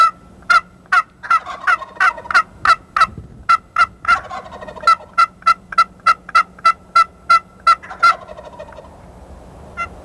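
A hot wild turkey gobbler gobbles again and again in answer to turkey calls, a quick run of sharp, loud, rhythmic notes repeated in bursts over quiet woods, with no voices.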